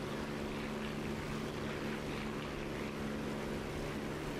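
A damaged Spitfire engine from a WWII air combat game drones steadily and loudly, a continuous rough hum with a sustained tonal whine and no pauses or speech.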